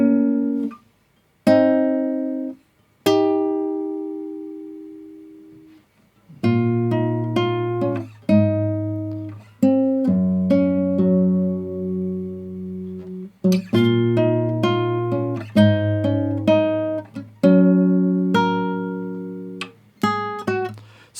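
Fingerstyle guitar plays the opening line of the Avatar main theme as a slow melody of plucked notes and chords, with pauses between phrases and each note ringing out clearly, with no talking.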